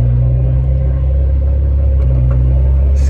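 A truck rumbles past on a road nearby, a loud, steady low-pitched drone that holds for a few seconds with no voices.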